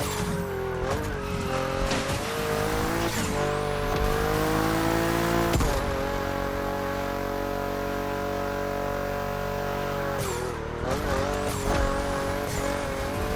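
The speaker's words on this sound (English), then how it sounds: "We're gonna move into Rally Raid, into this BMW." BMW rally raid car in The Crew Motorfest racing game, its engine droning steadily with rising and falling revs as gears shift, tire squeal and skidding through corners, continuous and loud with no talk.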